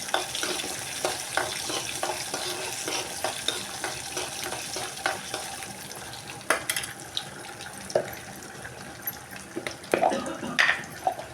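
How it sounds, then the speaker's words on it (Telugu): Tempering spices and cumin seeds fry in hot oil for chutney, a soft, steady sizzle broken by repeated small crackles and pops close by, growing a little busier toward the end. "కొంచెం జీలకర్ర కూడా వేసుకుంటున్నానండి."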